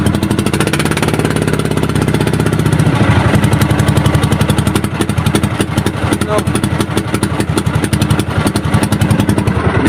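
Engine on a small lobster-fishing boat running steadily with a rapid, rough knocking rhythm, loud and close. It sounds like a troubled injector or plunger, and someone talks over it.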